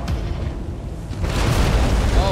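Missile launch and blast in the video game Titanfall 2: a sustained booming rumble that swells louder midway and stays dense and close to the end, with no clear talk.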